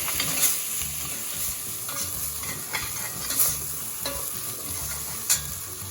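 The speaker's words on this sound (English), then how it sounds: "I'm gonna be stirring the onions too" Onions and tomatoes frying in a pan for a red kidney bean curry, a steady close sizzle broken by a few scraping stirs of a spoon against the pan, no voices.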